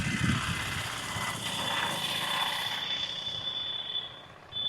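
A helicopter passes, its rotor whir loud at first and steadily fading as it moves away, with a high whine holding through to the end.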